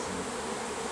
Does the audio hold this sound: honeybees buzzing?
yes